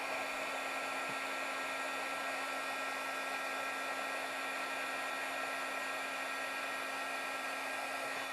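A heat tool blowing steadily for heat embossing a card, a constant close whooshing hum with a faint whine, unbroken and alone without any voices.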